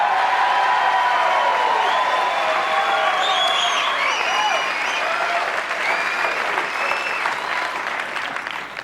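A comedy club audience at the Laugh Factory breaks into sustained applause with scattered whoops, loud and close, slowly tapering over several seconds.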